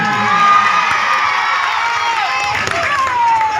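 An audience at a live comedy stage show cheers and shouts in a dense, sustained crowd roar that stays loud throughout, with whoops rising above it.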